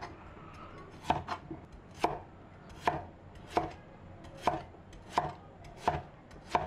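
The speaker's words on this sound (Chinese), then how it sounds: "然后把山药全部切成滚刀块" A knife chops peeled Chinese yam into chunks on a board, about ten crisp, evenly spaced thuds over a soft background, with no talking.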